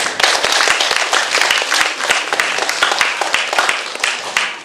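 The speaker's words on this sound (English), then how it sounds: "give Seth and Rosie a great big clap" An audience claps and applauds steadily and loudly at an evening event, a dense continuous crowd sound that holds throughout without pause.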